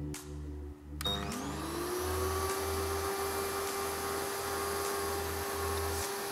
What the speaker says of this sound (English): we're gonna fire up the vacuum cleaner to find out how much it increases